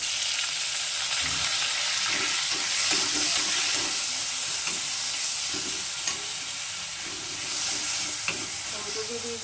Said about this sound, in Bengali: আদাটাকে একটু ভালো করে ভেজে নেবো দিয়ে দিচ্ছি টমেটো